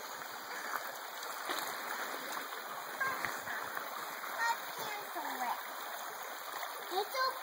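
Children splash and play in a shallow creek, with steady running water, intermittent splashes and faint voices in the background.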